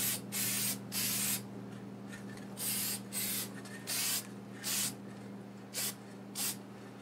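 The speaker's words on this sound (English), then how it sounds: "I plan on spraying multiple coats of lacquer on it" An aerosol can sprays lacquer onto a wood-turned ornament in about ten short hissing bursts of varying length, separated by pauses, over a low steady background hum.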